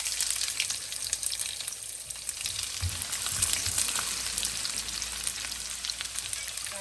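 Chopped garlic and onion are added to hot oil for a bottle gourd and mung dal dish, producing a loud, crackling sizzle that continues steadily with a few low thumps.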